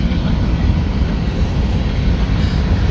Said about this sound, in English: It's a train, for those of you who love to see the trains in the videos.